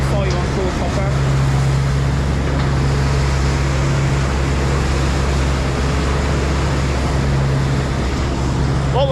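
A farm tractor engine runs steadily with a loud, low, continuous drone and hum as it drives around cow pasture, with someone talking over the engine noise.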